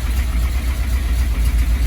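A Triumph TR7 engine idles steadily after tuning, a dense, continuous low rumble with an even, slightly uneven-pulsing note held throughout, close and fairly loud with no voices.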